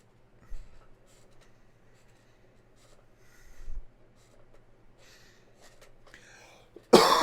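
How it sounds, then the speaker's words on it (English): A couple of low, muffled coughs spaced a few seconds apart in a quiet room, followed by a sudden loud burst at the end. "Forgive the coughing."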